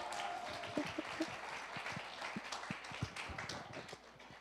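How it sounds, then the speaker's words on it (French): Fairly quiet audience applause at a church gathering, a soft wash of clapping with a few sharper individual claps standing out. "Jonathan Bouchard, mesdames et messieurs, applaudissez-la!"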